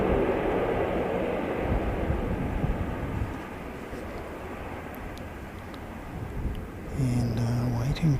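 An airplane landing at an airport produces a broad, distant rumble that slowly eases off, with a brief voice near the end.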